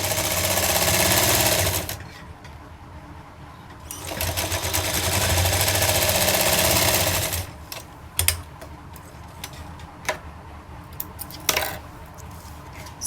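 A sewing machine stitches double piping onto a sleeve border in two sustained, close runs, the second longer, followed by light clicks and handling of fabric and tools.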